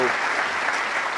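Snooker audience at the World Championship applauding Ding Junhui in a steady, dense burst of clapping, a short even wash with a faint voice underneath.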